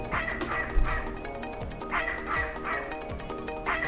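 A few quick barks from Alice, the dog in the video game Snatcher, sound at fairly regular intervals above a soft game soundtrack.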